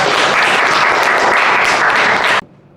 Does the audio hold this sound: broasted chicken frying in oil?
no